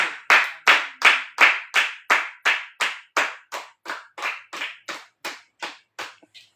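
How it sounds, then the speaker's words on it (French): A congregation claps together in a steady rhythm at a church service, loud, even bursts that slowly fade and thin out toward the end, with no voices over them. "On acclame sa parole."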